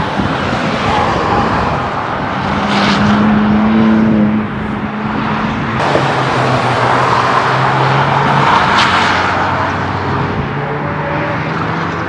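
A car threads the chicane at the Le Mans circuit, close and loud, its engine note dropping and climbing as it brakes and powers out. Steady roadside traffic noise runs underneath.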